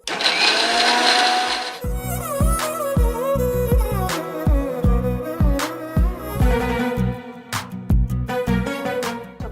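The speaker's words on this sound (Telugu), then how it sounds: "దీన్ని పాలు వచ్చేంత వరకు మిక్సీ పట్టుకోవాలి." Mixer grinder blending grated coconut with water to make coconut milk, a loud whirring motor whine with rhythmic pulsing and rattling, starting after a short burst of noise and running continuously.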